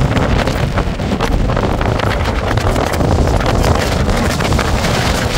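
Powerful gusting wind roars continuously on an exposed mountain trail near Monte Cinto in Corsica at about 2600 metres, buffeting the microphone loudly and steadily throughout with no pause.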